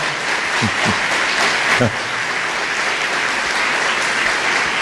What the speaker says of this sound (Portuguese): Vamos aplaudir o Senhor na vida do homem de Deus